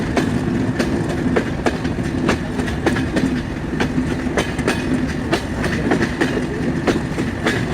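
Rupsha Express passenger train running from Khulna to Natore near Noapara railway station, with a loud, steady rumble and a regular clickety-clack of wheels over rail joints throughout, with no voices.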